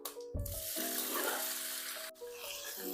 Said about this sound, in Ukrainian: Ну що, відправляємо все це смажитись.